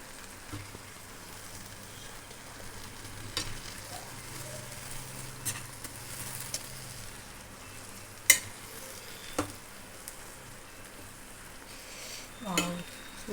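Cheese Maggi masala noodles stirred in a pan, with a soft sizzle and occasional scraping clinks of a utensil against the pan, a few sharp taps standing out.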